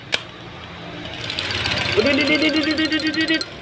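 A small toy Vespa scooter's motor whirs and buzzes steadily after a click, its mechanical rattle rising and holding close by, with a voice talking over it.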